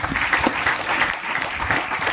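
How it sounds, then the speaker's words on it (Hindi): An audience at a business leadership speech breaks into loud, dense applause, a steady patter of many hands clapping close by for the whole stretch. "जोरदार तालियां हो इनके लिए"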